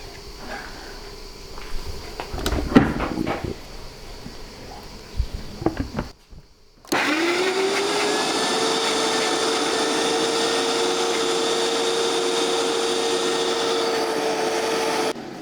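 Cauliflower puree for a baby, first prepared with some rubbing and clattering, then a blender starts with a steady loud whir that runs unbroken for about eight seconds.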